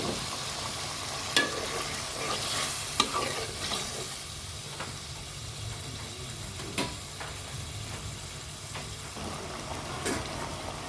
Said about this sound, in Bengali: মাংসগুলিকে এখন আমি ভালোভাবে কষিয়ে নিচ্ছি।